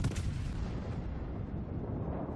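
Ship's guns fire in a naval battle video game, a deep rolling boom that rumbles on and slowly fades over a couple of seconds, with no talking.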